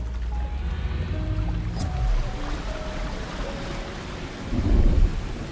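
Rain and thunder in the video game XING: The Land Beyond: a steady wash of rainfall under deep rumbling thunder that swells near the end.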